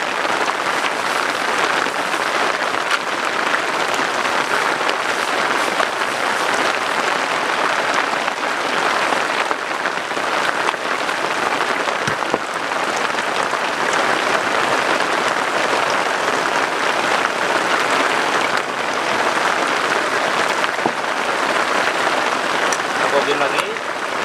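Steady, dense rainfall by a river hisses continuously at an even level throughout, a heavy downpour with no break in intensity.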